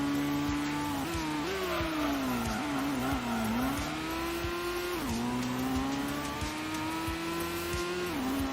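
Race car engine at full throttle in Gran Turismo, a sustained loud howl of revs that rises and dips with brief shifts and lifts, with no speech.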